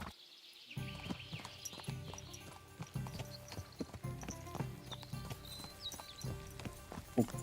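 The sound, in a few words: horse hooves clip-clopping, from video game Kingdom Come Deliverance 2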